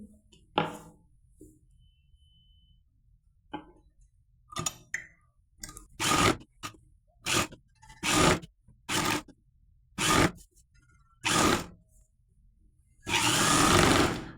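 A sewing machine stitching a double-folded hem on an undershirt, with short runs of stitching separated by quiet gaps and a longer, steady run at the end.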